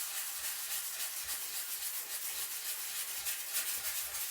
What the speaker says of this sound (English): now we're just gonna sand this down a little bit